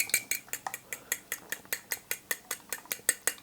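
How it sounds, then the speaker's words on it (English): Three eggs are whisked by hand in a bowl for a Christmas pudding, giving a steady run of quick, evenly spaced metallic clinks and taps, close and fairly quiet with no talk. "beat up 3 eggs"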